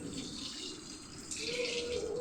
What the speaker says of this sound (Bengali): ও জল ঘাটতেই ব্যস্ত থাকে শুধু।